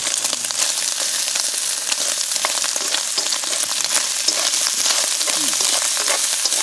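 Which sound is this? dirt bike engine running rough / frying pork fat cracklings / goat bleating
frying pork fat cracklings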